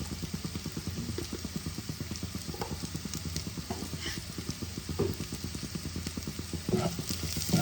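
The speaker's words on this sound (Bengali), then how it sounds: "ভালো করে ভাজবো।" Onions fry in a pan with a little salt and turmeric, giving a steady, close sizzle with faint stirring scrapes and a few louder pops toward the end; no voices.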